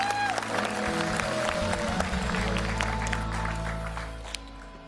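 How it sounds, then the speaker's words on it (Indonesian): A studio audience at a comedy game show applauds in a steady wash of clapping, with faint music tones underneath, fading slightly near the end. "Berikan tepuk tangan untuk mereka."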